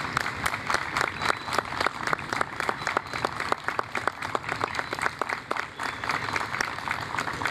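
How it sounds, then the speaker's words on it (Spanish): Audience applause at the 2021 immigrant festival in Villa Elisa, a steady patter of many hands clapping, moderately loud and continuous throughout with no talk over it. "Hoy los recordamos y les pedimos a ustedes un merecido"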